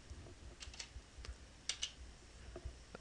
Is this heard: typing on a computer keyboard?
yes